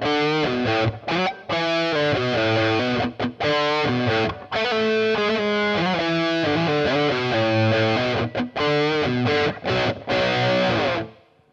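A clean guitar recording plays loud and steady, with chords and notes changing in quick rhythmic strokes and brief stops, free of hiss or clipping.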